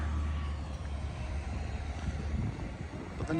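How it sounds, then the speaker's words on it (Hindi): A tractor clears snow on a Toronto street during a snowstorm, heard as a steady low engine rumble mixed with wind, continuous and moderately distant throughout. "ये देखें ट्रैक्टर लगाया स्नो क्लियर करने।"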